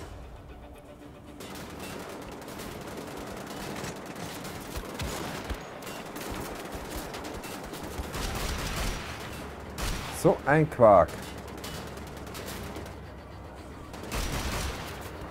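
Gunfire in the video game Wolfenstein: The Old Blood crackles in scattered bursts across a busy game soundscape. Heavier cracks cluster in a short volley near the end, and someone speaks briefly over the action.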